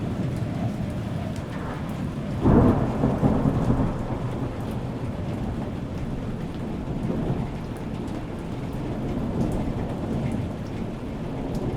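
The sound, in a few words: rain and thunderstorm sound effect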